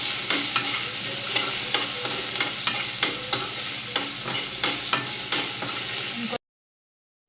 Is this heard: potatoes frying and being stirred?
yes